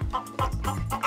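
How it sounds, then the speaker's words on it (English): A chicken on a farm where fresh eggs are gathered clucks in a quick run of soft, fairly close notes with no talk over them. "And you can hear the chicken."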